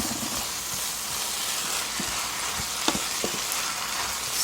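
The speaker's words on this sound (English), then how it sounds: "my cabbage a little at a time while I stir it, just to make sure it is cooked nicely" Cabbage frying in a pan with tomatoes as it is stirred, a close continuous sizzling hiss with scattered clicks and scrapes of the spoon, no talking.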